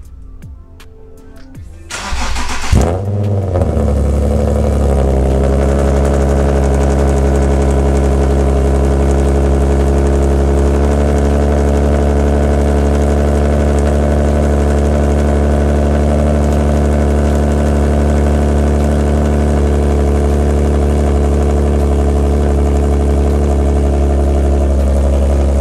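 An Infiniti G37 sedan fitted with ISR long tube headers cranks, fires up and settles into a loud, steady idle with a deep exhaust drone, close by and held for over twenty seconds.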